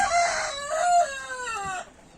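A penned rooster crows once, loud and close, a drawn-out call lasting about two seconds with no talk over it.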